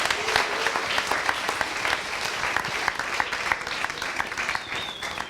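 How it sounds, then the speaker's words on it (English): A crowd at a FuckUp Nights Gold Coast talk applauds speaker Marko Petrovic with steady, dense clapping that holds at an even level from start to end. "Round of applause for Marko."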